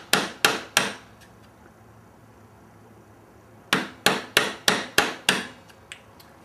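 Mallet blows on a chisel while dovetailing a wooden box: three crisp wooden knocks, a pause, then a steady run of six strikes and a couple of lighter taps, close and clear with no talk.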